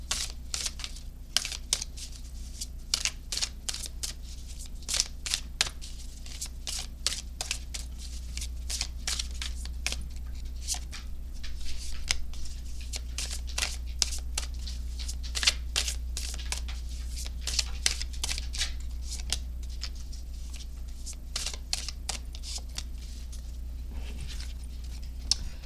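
Oracle cards being shuffled in a steady run of crisp, rapid riffles and flicks close to the mic, continuing for the whole stretch over a low background hum, with no talking.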